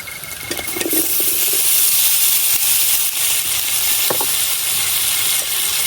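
Cut potatoes and tomatoes hit a hot pan with spices and sizzle and hiss steadily, with a few light stirring clanks over the frying, close up and without talk.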